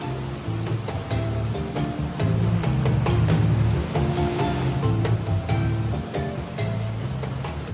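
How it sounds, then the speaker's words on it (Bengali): Strong river current rushing over rocks at a hill stream crossing in Bandarban, a steady loud roar of churning water close by, with no voices. "জিরিতে এখন প্রচণ্ড স্রোত"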